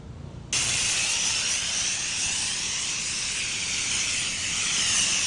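A pressure washer nozzle sprays pre-treatment across a dirty concrete basketball court, a loud, steady broadband hiss that starts abruptly after a brief quieter moment and holds constant, close up with no talk.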